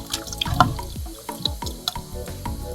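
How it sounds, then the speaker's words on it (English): Hot water is poured over stockfish in a pot to soak it while cassava leaves are cooked, producing close, intermittent splashes, drips and gurgles in short bursts. "we'll go ahead and put some ready hot water on our stockfish"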